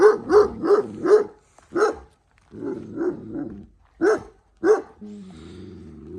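A dog barks repeatedly in quick bursts, loud and close, with short pauses between volleys and a low growl at the end.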